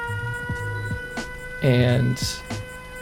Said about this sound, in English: I have an auto alarm set up